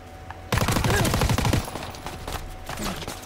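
A Thompson submachine gun in Call of Duty WWII fires loud rapid bursts at close range, a dense rattling volley for about a second followed by scattered quieter shots and game effects.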